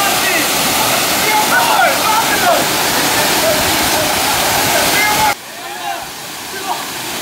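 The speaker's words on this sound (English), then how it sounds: "We have located the waterfall." A rainforest waterfall in Puerto Rico roars loudly and steadily nearby, then drops off sharply in level near the end, while faint voices are heard beneath the rushing water.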